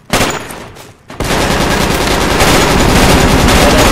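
Sustained, dense automatic machine gun fire in the military shooter game Project Reality, loud and close, starting with a brief burst, dipping for a moment, then roaring on without a break.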